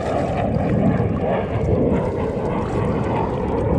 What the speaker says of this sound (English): Yeah, look at the jets. You hear them things?